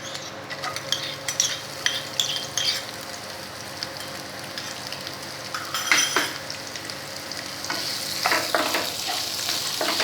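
Steady frying sizzle of chopped onion with cumin and bay leaves, with occasional scraping and clinks of a utensil stirring in a pan, no voices.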